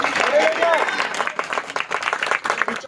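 A church congregation at an Urdu-language sermon claps loudly and rapidly in a continuous burst of applause, with a voice speaking over the clapping.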